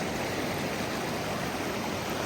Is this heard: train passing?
no